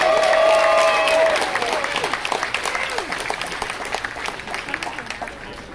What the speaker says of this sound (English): Big round of applause for the apprentices.